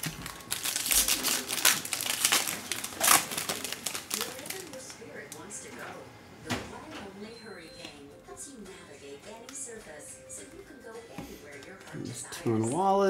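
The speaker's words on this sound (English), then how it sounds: "Rip that pack open." A foil pack of 2021 Mosaic football cards is torn open, with crinkling and ripping over the first few seconds, then softer rustling of card handling. Someone talks throughout.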